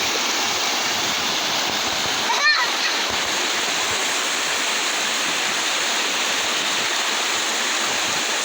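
A stream of water flowing down into a valley near a waterfall, a steady broad rushing hiss that stays even throughout, with a brief chirp partway through.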